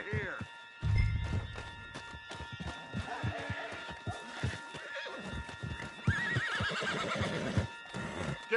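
Horse neighing and clip-clopping hooves in a video game, a whinny followed by hoofbeats, with characters talking over the sounds throughout.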